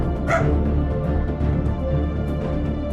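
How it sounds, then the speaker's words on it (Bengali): Dogs bark close by, a few sharp woofs over a dense, steady background. "পাহারা দেয়া কুকুরগুলো ঘেউ ঘেউ করল।"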